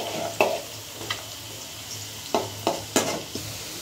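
Potato pieces frying in a pan give a low steady sizzle, while a spoon scrapes and stirs in several sharp, close strokes spaced irregularly across the few seconds.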